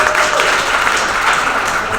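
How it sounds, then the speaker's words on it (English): An audience gives a round of applause for a bestselling author at a book event, loud continuous clapping filling the whole moment. "I think that deserves a round of applause"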